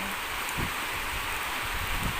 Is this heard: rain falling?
yes